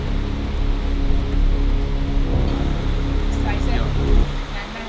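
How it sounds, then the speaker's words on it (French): Heavy torrential rain pours down steadily onto a shelter overhead, a dense, loud, continuous hiss and drumming heard from close under cover, with faint background noise throughout. "Là, il pleut à torrent et on est couvert juste par ça."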